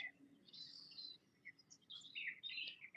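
Birds chirp and tweet outdoors in faint, high, scattered calls, several short bursts over a few seconds against a quiet natural background with no voices.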